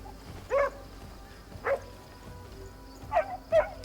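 A white dog in the video game Crimson Desert gives four short barks or yips, spaced irregularly over a few seconds against a low, steady game ambience.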